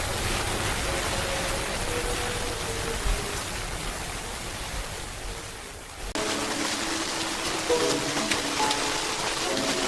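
Steady rain hisses across an AI-generated anime scene, an even wash of falling water that dips briefly before resuming with faint tonal music beneath.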